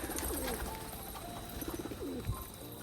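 A male Rajshahi pigeon cooing close by, a few soft rolling coos over steady background noise.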